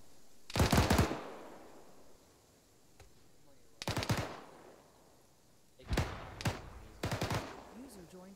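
Gunfire in a military video game: short bursts of automatic fire, near and loud, repeating in clusters with quiet gaps between, and voices faintly around them.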